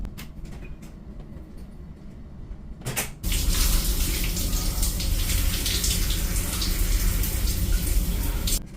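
Shower water runs in a ship's cabin bathroom, starting suddenly as a loud, steady, broadband hiss and rush after a few seconds of quieter background, then continuing without a break.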